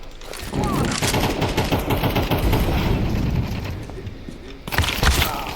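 Rapid gunfire bursts from the video game Counter-Strike 2 fill most of the stretch at steady loudness, briefly dipping before another loud volley near the end; a faint voice sits underneath.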